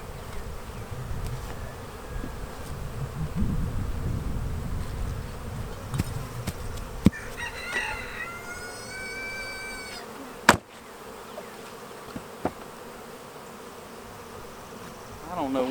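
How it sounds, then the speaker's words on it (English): Honeybees buzz steadily around an opened hive box during queen-rearing work, a dense continuous drone with a few sharp knocks and clicks from handling the equipment. "So let's get these bees out of this box"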